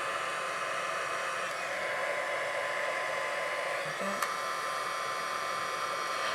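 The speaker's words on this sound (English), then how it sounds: "as the heat gun works its magic, you go from a dull finish to that gorgeous" A heat gun blows steadily over embossing powder on a folded craft gift box, a constant close airy roar that lasts throughout with no speech and only a faint tick partway through.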